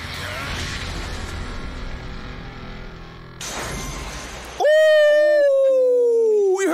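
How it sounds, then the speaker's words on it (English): Glass shatters in an anime boxing fight scene, a bright, noisy crash bursting out of a loud, dense mix. A sustained ringing tone follows and holds to the end. "we heard the glass shatter"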